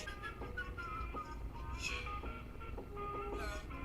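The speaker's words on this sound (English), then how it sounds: "The whistling on this song is pretty interesting." Melodic whistling in a song weaves through a soft musical backing, with clear pitched notes rising and falling at a moderate, quiet level.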